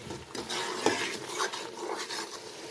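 Yogurt being mixed into masala in a cooking pot for degi yakhni beef pulao, with steady scraping and stirring of a spoon against the metal pot and a faint background sizzle, close and continuous with no talk.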